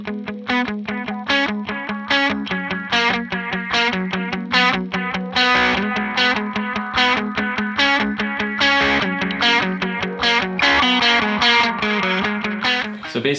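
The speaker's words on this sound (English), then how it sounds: "So basically what I have going on is distortion into two delays into a reverb." An electric guitar played through a pedalboard chain of distortion into two delays and a reverb rings out in a continuous stream of picked, overdriven notes with echoing repeats, loud and up close with no talking.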